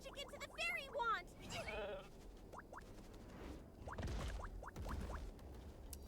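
Bleats from a video game's slumber sheep and flora sheep, a few short, quiet, wavering bleats mixed with a talking voice.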